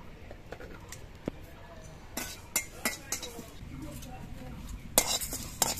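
Panch phoron and whole cumin seeds crackle faintly in hot oil while a metal spoon scrapes and clinks against the wok in irregular bursts, louder toward the end.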